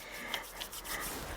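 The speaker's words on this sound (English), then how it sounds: "rub it for 20 to 30 seconds, palm to palm, back of my hands," Palms rub briskly together with alcohol hand rub product during hand hygiene before a fine bore nasogastric tube insertion, a short soft dry friction swish, faint and close.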